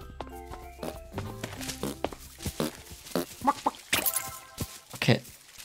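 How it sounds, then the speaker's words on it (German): Chickens cluck repeatedly in the video game World's Worst Handyman, with close, choppy bursts over light game sounds and footsteps. "Huhn!"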